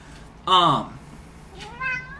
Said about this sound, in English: This is my cat right here. He's being naughty right now.